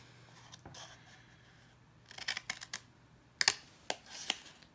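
Scissors snip through paper along the score lines of a graduation party favor box in a few short, crisp cuts, close by with quiet pauses between them.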